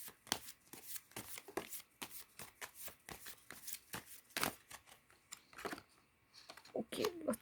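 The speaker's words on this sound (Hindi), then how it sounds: "पहला हम कार्ड लेंगे फ्रॉम साईं बाबा डेक." A Sai Baba oracle card deck is shuffled close by in a quiet room. Repeated soft riffling and flicking of cards runs steadily throughout, with a faint voice now and then.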